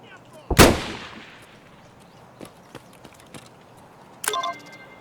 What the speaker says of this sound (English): I knew he was gonna fucking shoot at me.